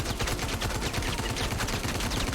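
Rapid gunfire in the VR shooter VR Citizen, a steady stream of close, loud shots fired in quick succession with no talking.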